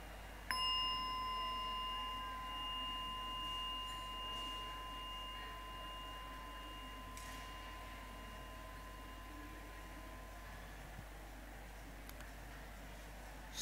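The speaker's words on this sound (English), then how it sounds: "So I will invite the bell and then I will guide you." A meditation bell is struck once and rings with a clear, sustained tone that slowly fades over many seconds against a faint, noisy room background.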